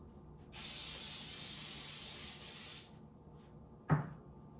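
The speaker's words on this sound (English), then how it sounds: "I spray mine with Baker's Joy." A steady hiss of Baker's Joy baking release spray on a pie pan lasting about two seconds, followed by a short clatter of the pan being set down.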